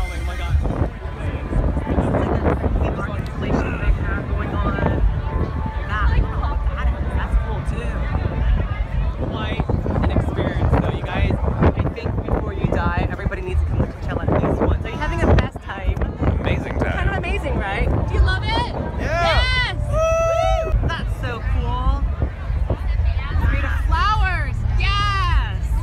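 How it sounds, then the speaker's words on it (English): Strong wind buffets the microphone at the Coachella music festival, a loud continuous low rumble with gusts, mixed with crowd babble and people talking nearby. "There's so much wind going on."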